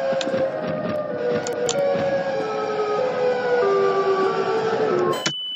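Siren Head, a giant siren-headed creature in a video game, blares a loud, continuous wailing siren with slowly wavering pitch that holds steady for several seconds before cutting off abruptly at the end.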